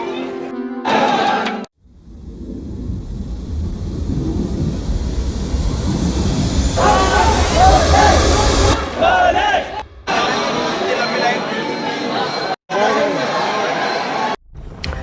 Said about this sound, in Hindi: सच में यहाँ पे बहुत ही ज़्यादा भीड़ है